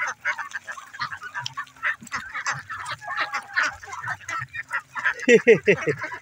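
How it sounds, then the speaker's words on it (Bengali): Ducks feeding on cabbage leaves tossed to them near Kankalitala Temple in Santiniketan, Bolpur, with a short burst of loud quacking near the end over a murmur of outdoor chatter and distant voices. "হাঁসে কেমন কপি পাতা খাচ্ছে"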